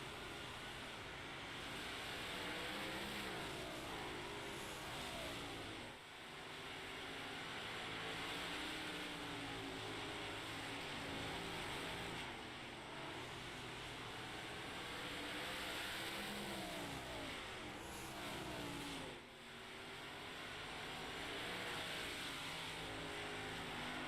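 Race cars lap a speedway as a distant, faint roar that swells and fades as they circle and pass, with the engine noise continuous throughout.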